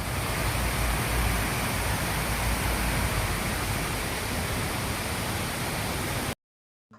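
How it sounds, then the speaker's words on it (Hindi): Honnamana Falls roars as a dense, steady rush of falling water, loud and continuous without a break before cutting off abruptly near the end. "firstly let's listen the sound of the water"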